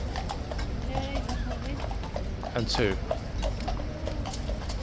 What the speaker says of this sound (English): It's a clippy clop back into the stables.